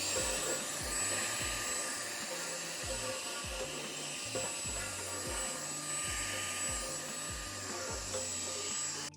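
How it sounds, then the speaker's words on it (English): A vacuum cleaner runs steadily and close, sucking debris off the shelves of a craft cart, with a continuous whine and rhythmic low thumps underneath throughout. "made my way to each shelf of the cart and vacuumed up all the grossness"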